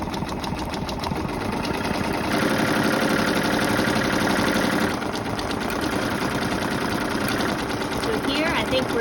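An embroidery machine stitches a flower design onto a pair of jeans with a rapid, steady mechanical chatter and hum, loud and close, continuing without a break for the whole stretch.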